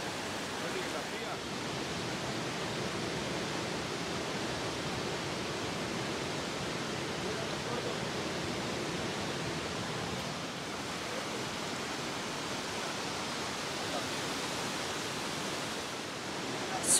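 A big, easily accessible waterfall gives a steady, even rushing roar of falling water that fills the air without pause, heard from nearby.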